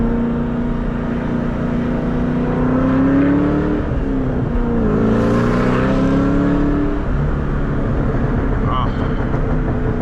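A 2003–2004 Ford Mustang Cobra Terminator with long tube headers rumbles and revs steadily nearby, a continuous loud engine drone with a few rising pulls, and people talking over it.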